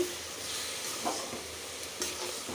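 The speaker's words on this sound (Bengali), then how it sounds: "সবজিগুলি ভাজা হয়ে গেছে" Vegetables for a vegetable khichuri fry in oil with a soft, steady sizzle, and two brief louder scrapes of stirring break in partway through. The pan sounds moderately quiet and no one speaks.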